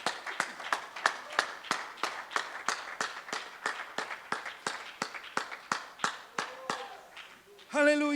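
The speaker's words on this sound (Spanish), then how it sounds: "quiero darle palmas al que vive" Rhythmic group clapping from a church congregation praising during a service, steady and evenly spaced for several seconds before giving way to a brief different sound at the end.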